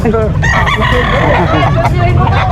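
A Leper breed rooster crows loudly and close by at an animal market in Calasiao, Pangasinan, with other fowl and background market noise around it.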